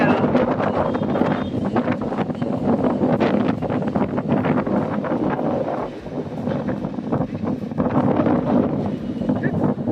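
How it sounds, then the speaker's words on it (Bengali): Strong storm wind buffets the microphone in a steady, loud roar across the whole stretch, with gusting swells and dips and a voice talking over it. "ঝড় বেড়ে গেল।"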